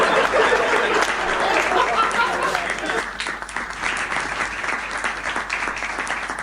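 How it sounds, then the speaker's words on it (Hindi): Audience applause at a Hindi comedic poetry gathering, a kavi sammelan, as a dense loud burst of clapping through the opening seconds, thinning slightly afterward but continuing steadily with scattered voices in the crowd. "हाँ ताली वाली बजाई जाती है"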